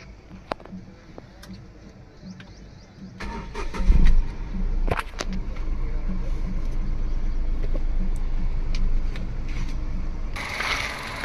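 A 2021 Tata Altroz car's engine starts after a few soft clicks and settles into a steady, smooth, low idle hum that carries on close by, with a brief voice in between.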